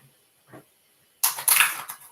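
A deck of tarot cards is shuffled up close in a brief burst of crisp papery riffling and slapping, after a short soft rustle and quiet pause.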